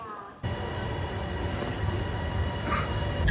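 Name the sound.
train at station platform in Thailand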